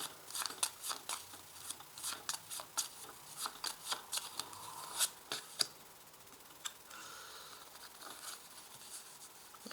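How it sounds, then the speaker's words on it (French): Tarot cards are laid out and positioned on a surface in a quick series of close, crisp taps and flicks that thin out into a few quieter touches. "Donc là je positionne mes cartes."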